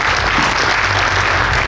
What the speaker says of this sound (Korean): 우리 다 같이 박수로 인사를 대신하겠습니다.